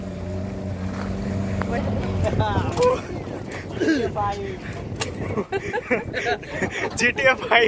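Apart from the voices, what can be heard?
motorboat ride on a lake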